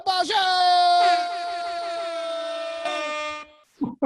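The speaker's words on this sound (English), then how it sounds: "adding the actual air horns is so much better" A loud, sustained blaring horn blast holds steady for about three seconds, then cuts off, followed by a brief pause and short bursts of sound.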